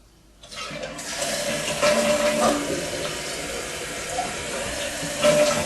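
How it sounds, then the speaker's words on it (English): A toilet with a troublesome flapper valve is flushed: a short clunk of the handle, then a rushing, gurgling swirl of water that runs steadily for several seconds and surges again near the end. "Okay, I'm going to flush this."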